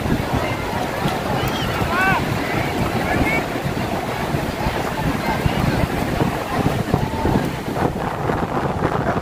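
Sea waves wash steadily onto the beach at Cox's Bazar while strong wind buffets the microphone, making a constant loud roar with some voices faintly beneath it.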